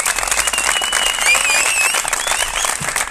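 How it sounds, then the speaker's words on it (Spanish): A small group claps after a stretching session led by a world champion, a lively, close burst of hand clapping with a few cheers, continuous and fairly loud throughout. "Pues venga, un fuerte aplauso para Roger."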